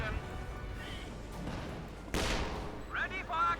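Bursts of DP light machine gun fire in the strategy game Company of Heroes 2, mixed with battlefield gunfire and a sharp crash midway. Faint and busy throughout, with a voice talking over it.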